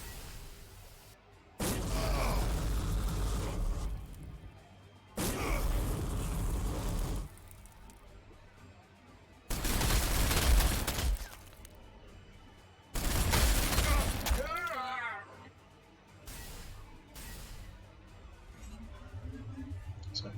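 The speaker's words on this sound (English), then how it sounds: "That damn artillery." Artillery fire in the Warhammer 40,000: Sanctus Reach strategy game, heard as several long, loud rumbling barrages separated by quieter gaps, heavy booms and crackling blasts rolling through the battle.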